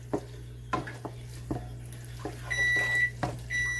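An oven timer beeps for cheesy garlic bread in a home kitchen, giving two sustained electronic tones that follow a few light clinks and taps of cookware. A steady low hum sits beneath it all.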